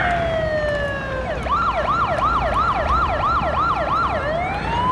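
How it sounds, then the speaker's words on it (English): A video game ambulance siren wails, then switches to a rapid rising-falling yelp, steady and fairly loud over a low road rumble. "If you turn the siren off, it turns the lights off."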